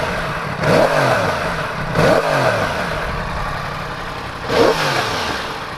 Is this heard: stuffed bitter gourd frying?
no